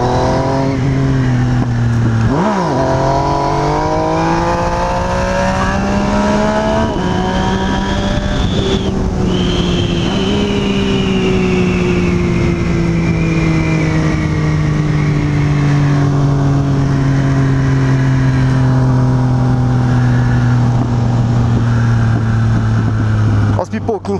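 A motorcycle engine revs loudly and continuously while carrying a passenger on the back, its pitch climbing and falling in long sweeps over about twenty seconds.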